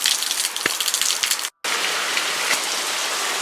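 Steady rain pours down during a storm, a dense continuous hiss with scattered louder drops and one brief dropout midway, with no voices.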